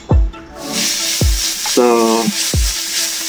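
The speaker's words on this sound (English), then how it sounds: "I have some bacon going on, I'm rendering the fat out of the bacon" Bacon sizzles and crackles steadily in a pan as its fat renders, while a person talks over it.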